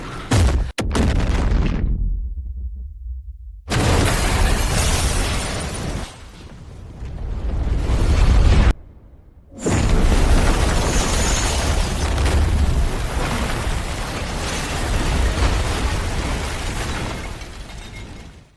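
A loud, rumbling explosion from the film Godzilla Minus One, with heavy booming bursts, brief silent gaps, then sustained roaring debris and crackling noise continuing to the end.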